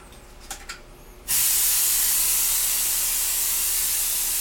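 A Sun Labs Handy Tan airbrush sprayer bursts into a loud, steady spray hiss after a few soft clicks, running continuously and close up without any talking.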